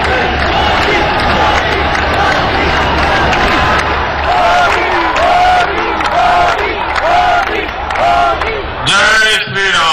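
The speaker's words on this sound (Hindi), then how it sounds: "एक बार जोरदार तालियों के साथ प्रधानमंत्री जी का" A large crowd at a Dussehra 2019 Ravan Dahan rally with PM Modi cheers and shouts continuously, a dense roar with rising chant-like calls and clapping, loud and close, swelling again sharply at the end.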